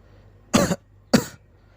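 Two sharp coughs about half a second apart, close and fairly loud, with quiet in between.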